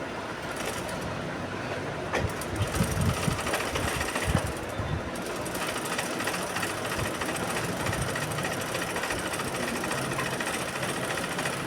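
A sewing machine stitching blouse fabric, a dense continuous mechanical chatter that runs steadily throughout, close and loud, with occasional heavier thumps.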